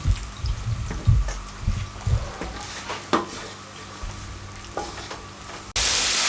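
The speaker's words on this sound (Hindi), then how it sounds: "और फ्राई कर दूँगा" Flour-coated chicken for a broast-style fast food recipe fries in oil with an uneven crackle and bubbling, punctuated by clinks and low bumps, then a sudden steady hiss of sizzling at the end.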